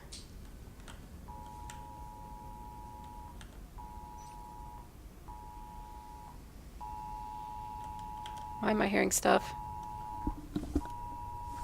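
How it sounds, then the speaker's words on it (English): A phone's emergency alert for a flash flood warning sounds during a gaming match, a steady electronic tone repeating in on-off pulses, moderately loud under people's chatter, with sharper bursts of noise near the end. "Oh, my phone is going off. There's apparently a flash flood warning in this area or something."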